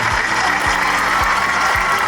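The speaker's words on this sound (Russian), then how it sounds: "И, конечно, все аплодисменты нашим артистам" Steady crowd applause for performers at an outdoor park event, a dense continuous patter of clapping with low rhythmic thumps running underneath.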